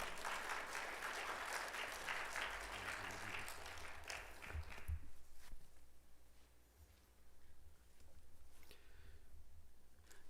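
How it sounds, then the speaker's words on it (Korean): A church congregation claps in welcome as the pastor comes forward at a Sunday service, broad sustained applause filling the room for about five seconds before fading into quieter shuffling and low room noise. "환영의 박수로 환영하도록 하겠습니다"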